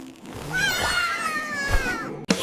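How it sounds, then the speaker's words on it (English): A cartoon cat gives one drawn-out, wavering meow, close and clear, over a light musical bed. "A peach cat!"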